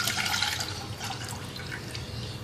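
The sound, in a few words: tamarind pulp poured into pan for chutney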